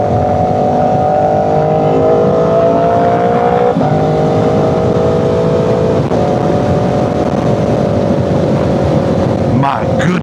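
An Aprilia RSV4 Factory engine roars close and loud as it accelerates, pitch climbing through each gear with brief dips at the shifts and wind rushing over it.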